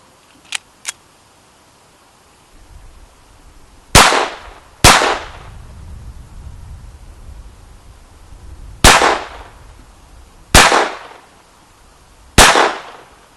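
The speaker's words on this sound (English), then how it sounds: "I love this gun, but I shoot it high because I get excited." A Smith and Wesson M&P 22 pistol firing five sharp, loud shots at irregular intervals of one to four seconds, each crack ringing briefly, after two small clicks at the start.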